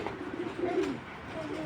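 A male Dobaj pigeon coos softly, a few low throaty murmurs rising and falling over faint room noise, close but quiet.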